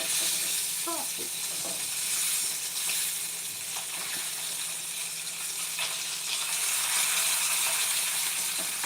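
Sausage patties fry in a pan with a dense, steady sizzle and crackle that stays loud and even throughout, with a few faint clinks and brief background sounds underneath.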